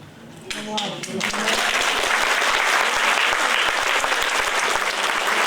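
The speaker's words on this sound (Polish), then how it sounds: "To brawa dla Was." A speaker's voice briefly opens before a hall of guests at a medical school's 40th anniversary bursts into loud, steady applause for the graduates, continuing thickly to the end.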